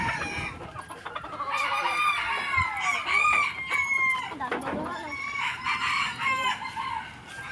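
Several fighting cocks crow and cluck in a backyard pen during a barangay fiesta, overlapping calls loud and close with steady clucking beneath and a little talk in the background.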